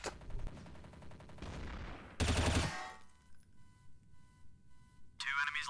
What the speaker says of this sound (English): Now I'm gonna actually shut up and allow you guys just hear the weapon sounds.